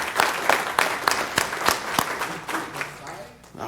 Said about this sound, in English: let's give him a round of applause in his honor